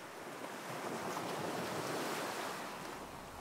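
Ocean surf washes in a steady, soft roar of breaking waves, faint and continuous with a slight swell in the middle and no voices.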